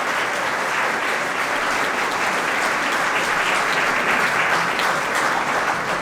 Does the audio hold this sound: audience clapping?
yes